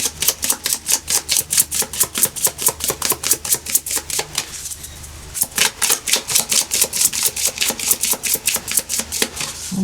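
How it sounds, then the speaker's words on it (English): A deck of tarot cards being shuffled close up, making a fast, regular run of crisp card clicks that briefly pauses midway and then resumes at the same pace, with no voices. "One more shuffle."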